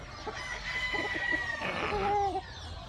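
Breeder chickens on a poultry farm cluck nearby as a rooster lets out a crow, the calls layered over low farmyard background noise.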